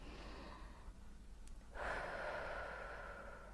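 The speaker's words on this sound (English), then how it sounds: "Inhale through nose" A person inhales through the nose during a slow breathing exercise for a facial massage, a soft airy intake that swells partway through and holds, close and quiet.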